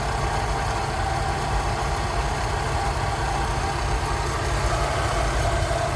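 A Rolls Royce Silver Shadow engine idling after carburettor tuning, a steady low rumble with an even, continuous drone throughout and no voices.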